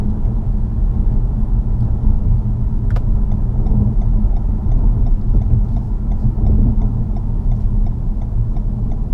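A 2018 Toyota Camry XSE engine hums with a steady, smooth low rumble as it runs through the rev range, heard from inside the car, loud and continuous with no talking.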